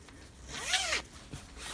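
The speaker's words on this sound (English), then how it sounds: "pull that zipper pull into the middle" A zipper on the back of a fabric pillow cover gives one quick, close rasping pull, then a softer short tug.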